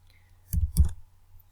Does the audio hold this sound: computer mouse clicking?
yes